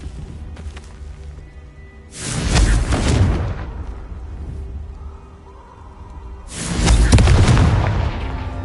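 Confringo fire-blast spell exploding in the video game Hogwarts Legacy, two heavy booming blasts a few seconds apart, each with a broad roaring burst and a rumbling tail over a low background.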